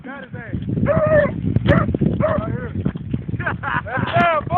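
A hunting dog on a rabbit hunt in Garland City gives close, repeated yips, barks and whimpers in quick bursts, mixed with people talking.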